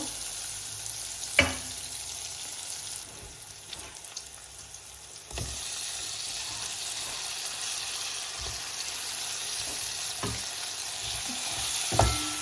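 Prawns fry with lightly browned onions and spice paste in a hot pan, a steady sizzling with occasional stirring clatters and scrapes, moderately loud and continuous throughout.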